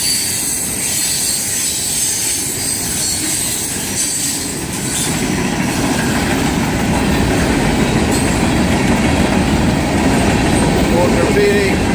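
A long freight train of tanker and hopper cars rolls past close by, its steady rumble and clickety-clack of wheels growing louder, with occasional squeals and people talking.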